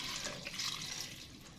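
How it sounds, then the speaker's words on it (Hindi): Water pours in a brief continuous splashing stream into a cooking pot while turnip meat curry cooks, close and fairly quiet, with no voices. "1 कप पानी ऐड करूंगी"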